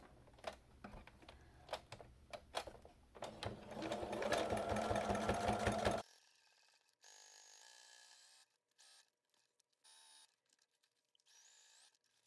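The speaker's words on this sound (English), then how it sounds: "Sewing on the other side of the seam." Sewing machine stitching a seam in vinyl boot covers: rapid rhythmic needle chatter that speeds into a loud continuous run, then stops abruptly, followed by quieter intermittent handling of the fabric.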